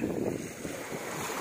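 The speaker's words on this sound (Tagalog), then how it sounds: "Yung hampas ng alon." Brief, faint wash of ocean waves on the shore at Baseco, mixed with wind buffeting the microphone.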